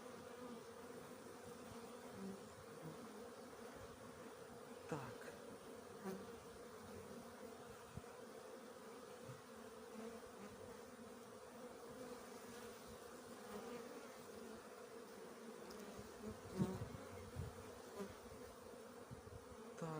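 Honeybees buzz steadily on a hive frame in a dense, continuous hum at close range, with occasional louder passes from individual bees.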